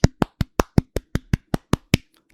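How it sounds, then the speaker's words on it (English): One person claps about eleven times in a quick, even rhythm, each clap crisp and close, before stopping. "I guess I could just insert a sound effect of clapping there, but I can clap"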